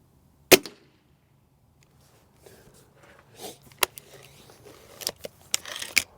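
Rifle shots on a range while the scope is adjusted: one sharp, loud crack early, then a quieter stretch of faint clicks and handling noises with a few brief knocks toward the end.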